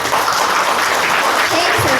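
An audience claps loudly for a sick colleague from the health sector being welcomed at an indoor event, a dense steady burst of applause lasting the whole moment with a few voices mixed in.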